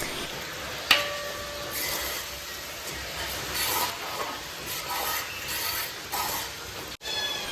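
Water poured into frying masala for a Kerala-style rabbit roast sizzles steadily, with a soft hiss and scraping stirs rising and falling throughout, close and moderately loud.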